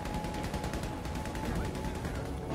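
Rapid automatic gunfire in Battlefield V online multiplayer during rain, a continuous burst of loud rattling shots with a few heavier reports mixed in.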